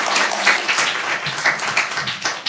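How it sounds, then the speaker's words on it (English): An audience claps for poet Terrence at a spoken-word segment of a conference. Steady, fairly loud applause from a crowd runs throughout, a dense patter of hand claps with no clear pause. "Y'all clap him up, clap him up,"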